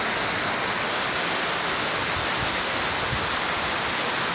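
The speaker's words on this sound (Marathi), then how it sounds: "आमच्या इथं खूप जोरदार पाऊस चालू आहे।" Heavy monsoon-style rain pours down in a constant, dense roaring hiss that stays evenly loud throughout, with no voices over it.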